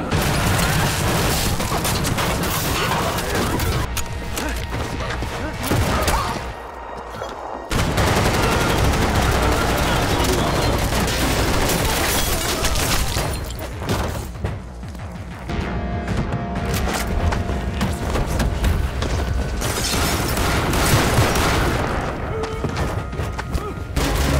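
Heavy gunfire rattles through an action movie shootout between police and mafia, with loud bursts of rapid automatic shots and thuds filling most of the scene and only brief lulls between volleys.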